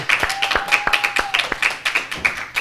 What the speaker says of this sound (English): Ladies and gentlemen, round of applause one more time so he can hear it all the way here virtually.